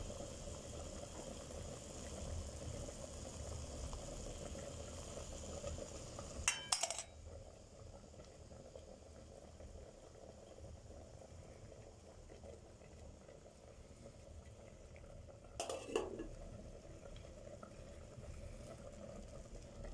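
Quiet, steady low rumble and bubbling of water for tea heating in a kettle on a stove, with two brief clinks of metal partway through.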